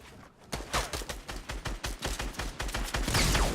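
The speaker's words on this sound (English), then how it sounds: "Shotgun shield and headshot for 192 damage to get the kill." Rapid bursts of close shotgun fire and impact sounds from a Fortnite battle, a dense run of sharp blasts filling the clip with no talking.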